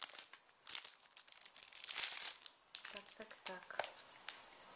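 Crinkly packaging rustles and tears as a small gift box holding a needle case is opened, with soft crackles and crunches scattered over several seconds, close by, with a voice present.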